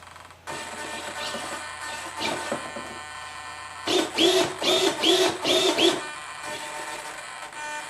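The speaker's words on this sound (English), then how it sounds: "you can hear the servos immediately come on live" X24 servos power on with a steady electric whir and hum, and a series of louder buzzing, grinding pulses rises midway before easing back to a constant drone.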